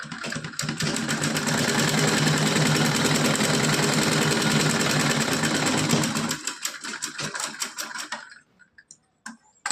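A sewing machine runs a double line of stitching on a small doll dress, a loud continuous rapid whirring for about six seconds, then a few short stuttering bursts and clicks before stopping.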